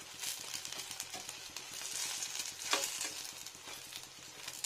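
Snacks frying in hot oil until crispy, a close, steady crackling sizzle with scattered pops and a brief louder burst midway, fairly quiet and without talk.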